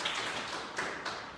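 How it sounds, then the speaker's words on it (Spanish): A few sparse claps of applause for the sister at a Shabbat gathering, faint and brief, with scattered taps rather than a full ovation. "le vamos a dar un aplauso desde acá"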